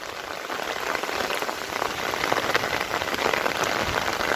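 Steady, heavy rain pours down in a Bangladeshi village, making a dense, even hiss and patter on surfaces that stays loud and unbroken throughout, with no voices.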